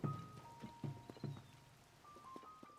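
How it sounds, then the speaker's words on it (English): Rain in the video game Zelda: Tears of the Kingdom patters steadily on surfaces, with clustered soft drops and splashes heard close by, plus faint tonal game sounds in the background. "it's constantly raining in this specific area"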